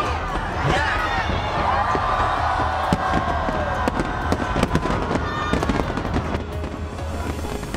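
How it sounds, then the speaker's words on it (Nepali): A big, costly fireworks display over Hong Kong crackles and booms continuously, with sharp bangs and rumbling bursts layered over a loud crowd roar and cheering throughout. "अब आतिशबाजी सुरु हुन्छ।"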